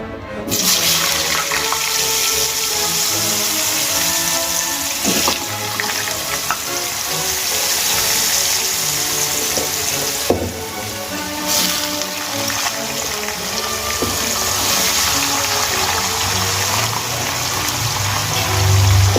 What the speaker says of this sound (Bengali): এবার এই তেলের মধ্যে লম্বা লম্বা করে টুকরো করে কেটে রাখা আলুগুলো আমি ভেজে নেব।